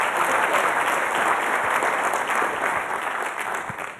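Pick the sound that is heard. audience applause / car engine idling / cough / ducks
audience applause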